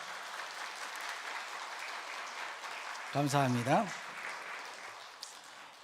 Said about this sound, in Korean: 우리 오정신 전도사님 환영의 박수 한번 드리겠습니다.